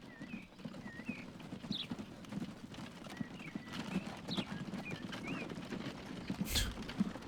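Horse hooves clip-clop in the Transport Fever 2 simulation game, a quick, irregular patter with occasional neighs and bird calls over faint background ambience, no talking.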